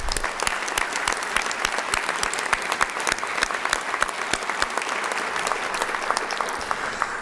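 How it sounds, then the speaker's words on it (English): Sustained applause from a crowd at a college alumni hall of fame induction ceremony, steady dense clapping throughout with sharp individual claps standing out, fairly close and loud. "Let's give them a round of applause."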